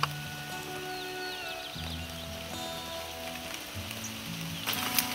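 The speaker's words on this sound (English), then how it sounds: "since it's raining, we're just gonna just stay here for a while till the rain stops" Rain falls steadily on a mountain path in Georgia along a hike to a high village, a soft even patter heard nearby with no voices.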